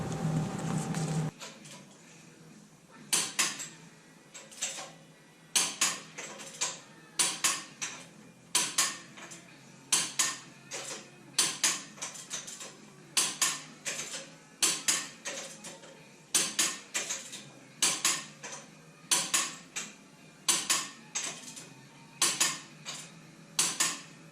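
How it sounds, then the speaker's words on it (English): A torque wrench checks the wheel bolts on a plow truck, giving a long series of sharp metallic clicks and ratchet snaps, repeated at a regular pace with short pauses, close and moderately loud. "we're gonna go double check them with a torque wrench"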